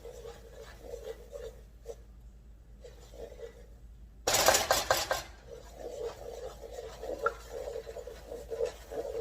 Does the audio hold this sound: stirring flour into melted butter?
yes